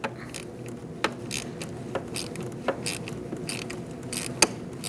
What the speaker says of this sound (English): Going to loosen up this nut.